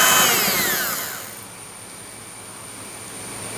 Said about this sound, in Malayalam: ഒന്നേലിട്ട് നമ്മളൊരു 2 സെക്കൻഡ് മാത്രം ബീറ്റ് ചെയ്ത് ചുമ്മാ ഒന്ന് മിക്സ് ചെയ്തെടുത്താൽ മതി.